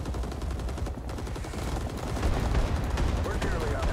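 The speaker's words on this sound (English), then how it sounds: "Small arms fire. Keep your heads in. Taking fire." Small arms fire in the Vietnam War shooter Rising Storm 2: Vietnam, a steady crackle of rifle and automatic shots under a constant engine-like rumble, with voices in the mix.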